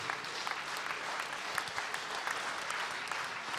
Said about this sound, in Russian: Под ваши аплодисменты все конкурсанты нашего фестиваля выходят на сцену.